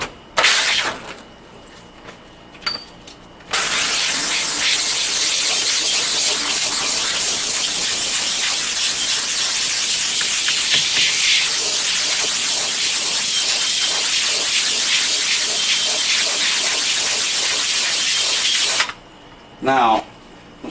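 Sprayed water rinses out a screen printing screen after degreaser, a loud continuous hissing spray lasting most of the stretch, with short speech before and after.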